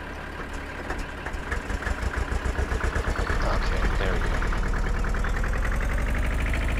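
A tractor engine in Farming Simulator 2013 drones steadily at idle, then settles into a denser, pulsing rumble that holds to the end, with a voice talking over it.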